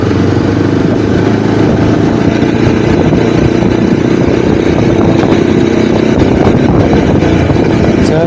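KTM motorcycle engine running steadily during a rain-soaked ride toward Pali, a continuous loud, close drone with wind and road rumble and no talk.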